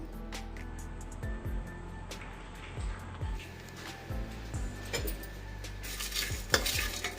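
Peanuts with cloves and cardamom dry roasting on a low flame for masala brinjal, a soft crackle under regular stirring strokes and scrapes of a spoon against the pan, quiet and close.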